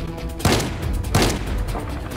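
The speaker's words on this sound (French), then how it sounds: "Mais ces idiots tiraient sur tout ce qui bougeait." Army soldiers fire guns in an audio drama: two sharp, loud volleys of rapid gunfire burst out about a second apart amid a rattling, continuous background of shots, with no speech.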